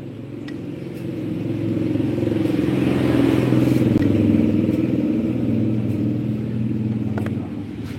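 A Honda CBR motorcycle engine idling nearby with a steady rumble and a fast, light clacking rattle running throughout, swelling slightly in the middle before settling.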